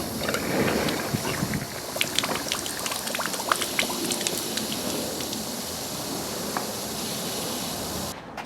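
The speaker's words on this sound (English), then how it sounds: "I'm going to flush it the opposite direction as well." Water rushes steadily through the engine cooling system of a Ford F350 as it is flushed in reverse, a continuous splashing, gushing flow with brief spatters, close and fairly loud throughout.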